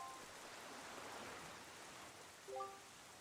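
Steady rain falls on a cursed island beneath dark clouds in The Legend of Zelda: The Wind Waker, a continuous hiss of downpour with a few faint tonal game chimes near the end.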